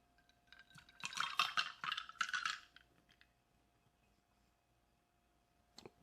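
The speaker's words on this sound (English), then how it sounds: "All right, we're gonna pour it all in the glass," A cocktail is poured with its ice into a glass, a burst of clinking, rattling cubes and splashing liquid lasting about two seconds, fairly quiet and close, followed by near silence and a brief clink.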